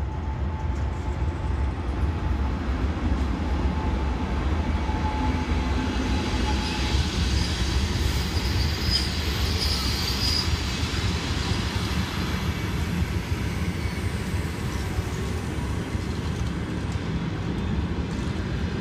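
A heavy train hauled by a diesel locomotive rumbles past steadily and close, a continuous low drone of engine and rolling wagons with faint wheel squeal above.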